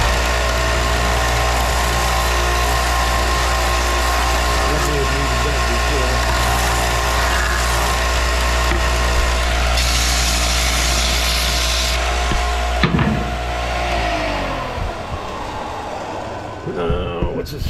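A Bucktool belt/disc sander with a 5 amp motor, 4x36 belt and 6-inch disc runs with a steady whine and hum, then winds down unevenly near the end.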